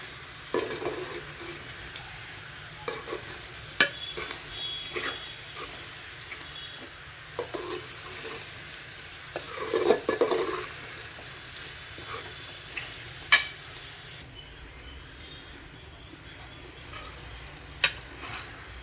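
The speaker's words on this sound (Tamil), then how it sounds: "இப்படி லைட்டாக நம்ம பெரட்டி விட்டாலே வந்து நல்லா வெந்துடும்" Chicken liver frying in a pan, turned over gently with a ladle: a faint, steady sizzle broken by occasional light scrapes and taps of metal, with no one speaking.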